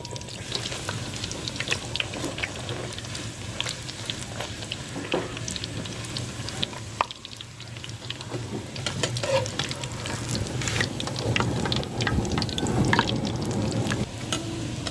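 Puris frying in a wok of hot ghee, a continuous close sizzle and bubbling with occasional stirs and splashes, growing somewhat louder toward the end, with no talk.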